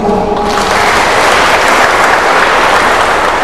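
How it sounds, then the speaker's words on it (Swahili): A church congregation breaks into loud, sustained applause at a church inauguration service, dense clapping from many hands filling the space without pause. "naomba tumpigie makofi"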